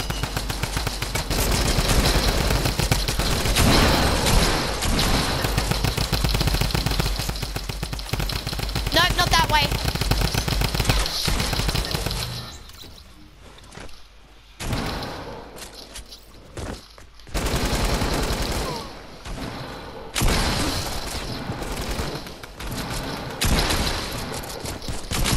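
Dense, rapid gunfire from the video game Fortnite runs almost continuously, loud and close, with brief gaps and further bursts later and a voice talking faintly beneath.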